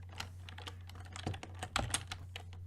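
Typing on a computer keyboard while coding: irregular, close keystrokes with a few louder taps, over a steady low electrical hum, with no talking.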